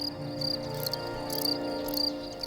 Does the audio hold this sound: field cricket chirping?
yes